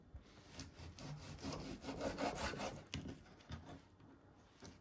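A knife finely slices beef steak: quiet, rhythmic scraping strokes and soft rubbing cuts repeat closely on a board at low volume.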